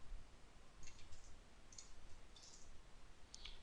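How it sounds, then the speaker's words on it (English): A few faint, crisp computer mouse clicks, scattered singly and in quick pairs over a quiet background, with no talking. "Easy, right click."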